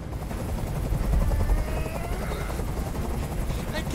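A helicopter in the Detroit: Become Human video game thunders close overhead with a loud, continuous rotor chop and broadband roar, while a voice speaks under it.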